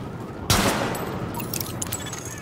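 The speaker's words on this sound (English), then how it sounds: "Weapon test initialized. Open fire at the highlighted targets." Gunfire at highlighted targets during a weapon test in the video game Tom Clancy's The Division: one sharp shot cracks out, then a sputter of fainter, scattered shots trails off over a steady background hum.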